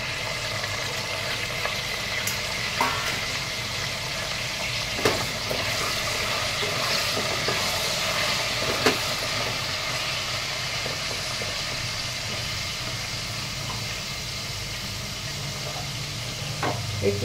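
Cauliflower fries in a pan, making a loud, steady sizzling hiss that runs the whole time, with occasional small clinks and scrapes as it is stirred.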